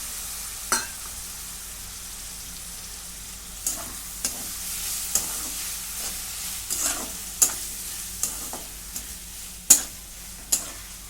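Dried Bombay duck fish fries in a pan while a spatula stirs it, producing a soft steady sizzle broken by sharp scraping clicks roughly every second, heard up close with no talking.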